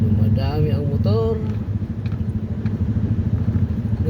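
Motorcycles and other traffic on a busy Manila street, with a rapid, pulsing engine putter running continuously beneath a person's speech and carrying on alone afterward, close and moderately loud.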